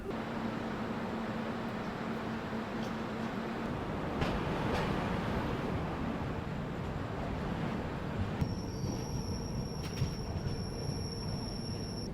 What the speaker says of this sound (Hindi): हमारी ट्रेन चित्तौड़गढ़ से निकल चुकी है